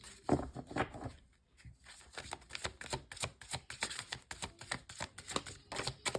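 Tarot cards being shuffled by hand, a run of quick papery riffles and snaps close by after a short lull, with no talk over them.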